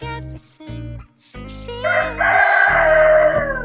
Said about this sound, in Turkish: Ne bağırıyorsunuz siz horozlar?